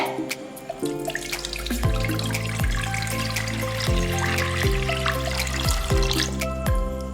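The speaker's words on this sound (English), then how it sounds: "Next we can add 750 ml of water." Water runs steadily into a saucepan, with a continuous splashing stream and a few clinks of metal, close by.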